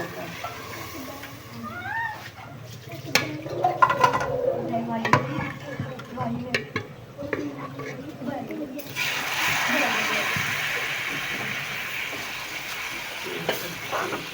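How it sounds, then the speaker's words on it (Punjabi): Tempering of browned fenugreek seeds poured into simmering moong and masoor dal and stirred in a village kitchen, with scraping and spoon stirs, then a steady loud sizzling hiss taking over partway through, with voices talking faintly underneath. "ਤੁੜਕਾ ਤਿਆਰ ਹੋ ਗਿਆ ਵਾ, ਦਾਲ ਵਿੱਚ ਪਾ ਦੇਵਾਂਗੇ ਤੁੜਕਾ"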